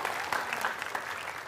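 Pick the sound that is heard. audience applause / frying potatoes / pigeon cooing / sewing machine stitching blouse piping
audience applause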